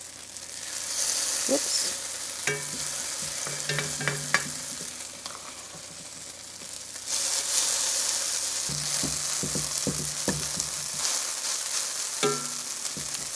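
Patties fry in a fair amount of olive oil in a pan, a steady broadband sizzle running throughout with scraping and clicking from stirring or turning, and a brief spoken exclamation partway.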